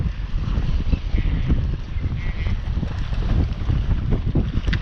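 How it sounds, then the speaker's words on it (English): Strong wind blowing at a South Texas jetty, a continuous heavy rumble and buffeting against the microphone with no pause. "I think it's just too windy for this."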